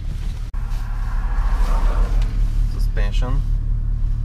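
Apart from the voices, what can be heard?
BMW 745i E65 driving with exhaust cut-off valve installed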